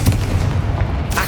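A Confringo blast spell cast in the video game Hogwarts Legacy, heard as a heavy booming burst with rumbling low end that carries through the short moment.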